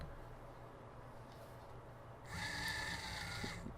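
A small robot motor starts spinning partway through, a steady high whine with a mechanical buzz that holds to the end, quiet and close over low background hum.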